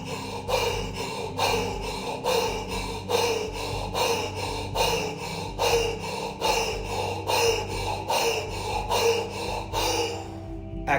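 A person deliberately breathes in rapid, frantic gasps into the chest, imitating a panic attack. The sharp inhales and exhales repeat in an even, quick rhythm, close and alone, with no talking.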